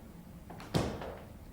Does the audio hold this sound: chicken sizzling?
no